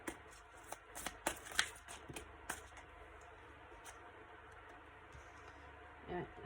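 Aura oracle cards being shuffled for a general reading, soft riffling and sliding of the deck in quick close bursts, fading to quieter handling.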